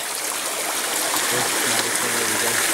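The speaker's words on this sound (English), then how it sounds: "just a small stream really, feeding from there." Small creek stream flowing in the Gold Coast Hinterland, a steady close trickle and babble of water running continuously without pause.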